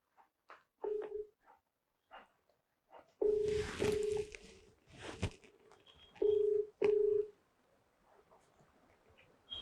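A phone being dialed to place a call, with a short run of clear tone beeps and key presses spread across the moment, sounding close and fairly loud with no talking.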